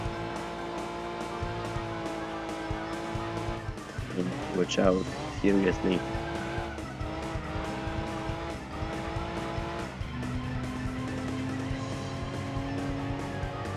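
Light Daihatsu and Suzuki cars race in Gran Turismo 2, a steady buzzing engine drone with a burst of tire squeal and skidding partway through, continuing under a voice.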